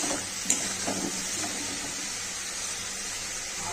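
Chilli and turmeric powder are fried into a spicy masala for a stingray fish curry in a pan, giving a steady soft sizzle with a few light stirring scrapes early on.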